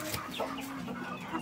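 Chickens clucking softly in a farmyard, a few short clucks rising over a steady low background murmur, moderately distant.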